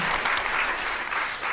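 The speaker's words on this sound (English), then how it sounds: "please give a round of applause to Dina Kafefi" A conference audience claps in a steady, even burst of applause for the event's logistics organiser, with no voices rising above the clapping.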